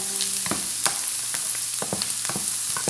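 Filipino fried rice (sinangag) with carrots and onion sizzling in a pan, a steady close frying hiss punctuated by sharp scraping and stirring clicks of a spatula, with no talk.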